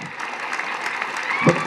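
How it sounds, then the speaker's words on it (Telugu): Steady applause from a crowd, a continuous wash of many hands clapping at moderate loudness, with a brief low thump near the end. "గట్టి కొట్టాలి చప్పట్లు"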